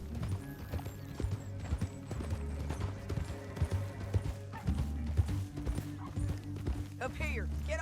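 Horse hooves clip-clop in Red Dead Redemption 2, a quick uneven patter of knocks under game music and steady engine-like hum, with people talking around them and a brief whinny-like squeal near the end.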